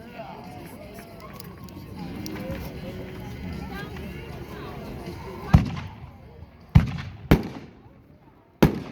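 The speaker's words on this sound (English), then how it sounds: "Next, we're going to shoot 2 60-gram canisters." Two 60-gram artillery shell firework canisters at an outdoor demo in Aiken, SC, launching and bursting in a few distant booms near the end, after a stretch of crowd babble.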